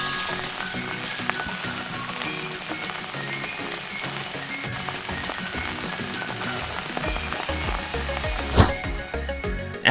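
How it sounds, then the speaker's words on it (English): Minced beef frying in a pan for a Cantonese minced beef rice dish, a steady crackling sizzle running throughout with music beneath, and a sharper clatter near the end. "Add beef. Make sure you loosen up the beef really well. Fry on one side first,"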